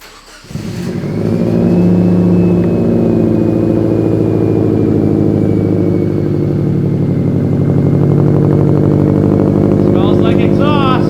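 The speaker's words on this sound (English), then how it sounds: "First cold start" A 2002 Subaru WRX bugeye with a newly installed turbo, downpipe and intake fires up on its first cold start, cranking briefly then settling into a loud, steady, rough idle close by, with faint chatter at the end.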